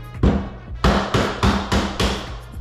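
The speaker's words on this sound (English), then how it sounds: "tap the hinge bolts out" A flat-tip screwdriver taps interior door hinge bolts loose: about five sharp metallic knocks land in a steady rhythm, close and loud, with a brief ring after each.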